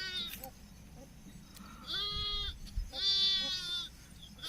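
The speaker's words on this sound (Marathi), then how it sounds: "तुम्ही बघू शकता ही त्यांची मेंढर आहे, ही करड आहे त्यांची" Sheep and young lambs in a traditional herder's flock bleat outdoors, with several drawn-out, wavering calls rising over a low background rumble.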